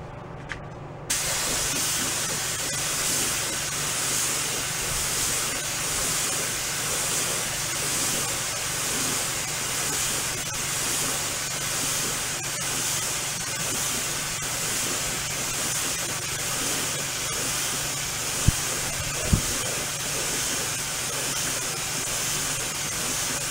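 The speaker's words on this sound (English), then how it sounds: "let's hit it with a few more coats of this lacquer" Spray gun laying lacquer coats on a Slingerland Artists Model snare drum during restoration, a loud steady hiss of spraying that runs continuously after a brief start, with a couple of faint knocks near the end.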